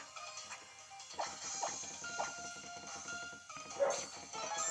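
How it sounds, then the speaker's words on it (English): A dog barks outside, somewhat distant, in a few scattered yips and woofs over a steady background hum from a handheld game. "that was my uh, dog outside"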